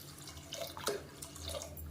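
Water is poured into a cooking pot for a mixed-vegetable kootu, a short, faint trickle with a few soft splashes and drips.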